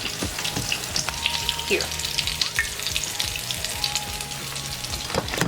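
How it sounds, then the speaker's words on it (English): Hot oil, heated to about 350 degrees, sizzles steadily in a big cast iron skillet before chicken fried steak goes in, with a dense crackle and occasional pops, loud and close, under a brief spoken word. "Nice hot oil in a nice big cast iron skillet"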